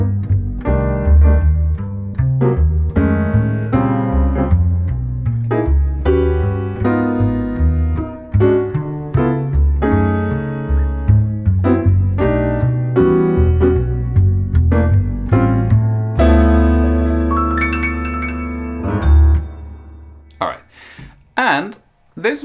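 Solo jazz piano playing minor-key 2-5-1 chord voicings, full rich chords struck in a steady rhythmic progression with sustained tones, loud and close, ending in a few brighter, sparser notes.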